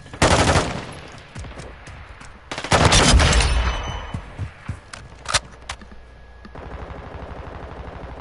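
Gunfire from Modern Warfare 2 multiplayer: loud bursts of rapid automatic shots in several clusters, with sharp single cracks between them and quieter game sounds filling the pauses.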